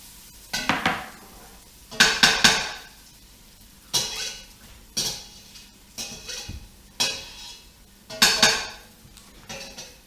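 Onions stirred in a cooking pot for vegan tomato soup, a spoon scraping and clinking against the metal in repeated short bursts, close and fairly loud, with quiet pauses between strokes.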